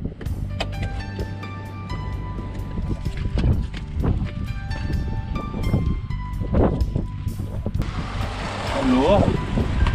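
A strong wind at the seashore, with waves and surf beneath it. The gusts buffet the microphone steadily, and the roar swells louder near the end.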